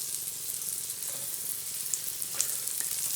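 Chopped shallot and scallions sizzle steadily in a hot pan for a Steak Diane, a constant hissing fry with a few small pops and crackles and no talking.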